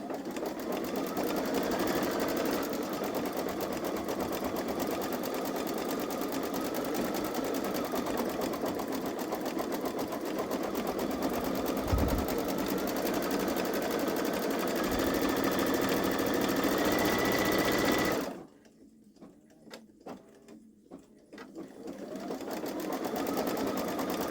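A Babylock Solaris 3 (Vision) embroidery machine stitches out a digitized design with a steady, close mechanical whir and rapid needle chatter. It pauses briefly near the end, then resumes, with no talking.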